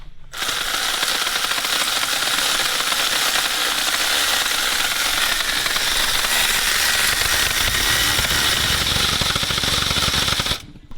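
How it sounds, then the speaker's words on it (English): A power steering system being primed on a V8 Landcruiser panel van: a loud, continuous mechanical whirring and rattling drone that runs steadily for about ten seconds, then stops abruptly. "I'm just priming up the power steering system."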